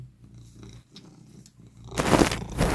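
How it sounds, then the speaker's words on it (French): A domestic cat purrs in a soft, steady low rumble for about two seconds, then a louder, broadband rustle rises and buries it toward the end. "Non, Nougat, tu vas ronronner, mais sur mes genoux"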